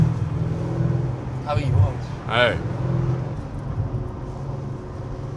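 A Mercedes G-Class AMG engine rumbles low and steady while people talk and react over it.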